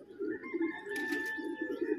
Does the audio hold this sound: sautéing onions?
no